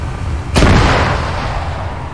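A vehicle blowing up in Arma 3: one sudden, heavy explosion bursts out loud and close, then a long rumbling tail fades over the next second or more.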